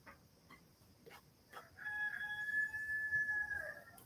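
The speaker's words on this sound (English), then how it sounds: "Here's the rooster crowing." A rooster crows once, a sustained call that is fairly distant and moderately loud, following a few faint clicks in a quiet indoor space.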